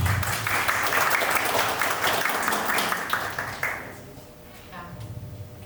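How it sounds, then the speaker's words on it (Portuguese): An audience at a public hearing on a river basin plan claps steadily for the next presenter. The applause is dense and fairly close, then thins and fades near the end as a faint voice begins. "Uma salva de palmas por isso."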